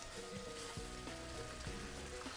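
Cooked white rice frying in a pan for nasi goreng, a soft continuous sizzle and crackle heard close but quietly, with no talking.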